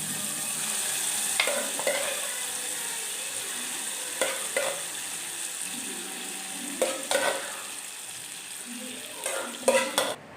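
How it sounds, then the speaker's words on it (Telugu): Cooked dal goes into a hot tempering pan and is stirred, a steady frying sizzle with several scraping clinks of the spoon against the vessel, close and clear with no talking. "ఇప్పుడు మనం దీంట్లో పప్పు వేసేసుకుందాము."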